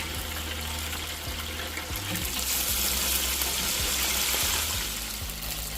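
Chicken seasoned with salt and black pepper fries in a pot of hot grease, giving a steady, loud crackling hiss that holds throughout with no talk.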